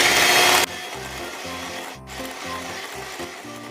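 Cake batter for a no-oven Christmas plum cake, with half a cup of oil just added, beaten by an electric mixer: a steady rhythmic whirring grind with regular pulsing strokes, close and alone after a brief louder burst.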